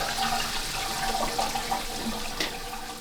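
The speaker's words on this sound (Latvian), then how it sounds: "Mēs esam pie ļoti sena avota." Water streaming steadily from an old natural spring in Latvia, a continuous close gurgling flow with no talking.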